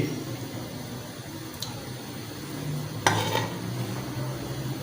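Onions sizzling and frying in hot ghee, a steady crackle with occasional sharp clinks of a utensil against the pan.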